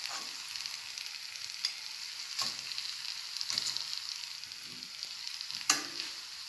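Liver strips and onion frying in a pan give a steady sizzle, broken by occasional sharp pops and crackles.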